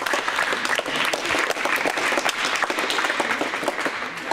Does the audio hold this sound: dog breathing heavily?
no